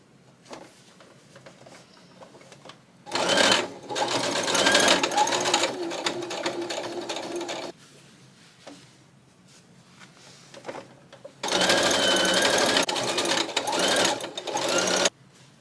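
A sewing machine stitches waist darts on clothing being taken in, running in two loud sustained bursts separated by quieter handling sounds.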